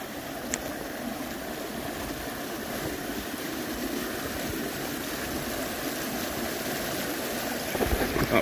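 River water flows steadily at Butchers Flat in New Zealand, a continuous broadband rush that holds even and fairly loud throughout with no talk over it.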